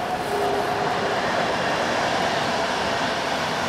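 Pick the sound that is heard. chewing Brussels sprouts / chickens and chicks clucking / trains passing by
trains passing by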